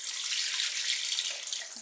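Warm homemade chicken stock pours from a heavy pot into a colander in a kitchen, a steady rushing splash of liquid that tapers off near the end.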